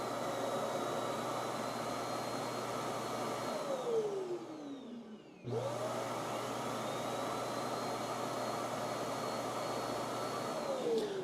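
An Ecovacs X2 robot vacuum docking station auto-empties its dust bin with a steady loud whooshing roar and a whining pitch sweep, briefly dropping and cutting out midway before a second long suction cycle.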